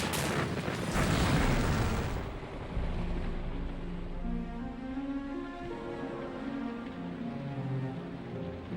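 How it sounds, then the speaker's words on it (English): Japanese Zero fighters strafe an airfield lined with US aircraft on an island, a loud crackling burst of gunfire fading into a rumbling, echoing aftermath. "Zero fighters strafed US aircraft lined up on the island's airstrips."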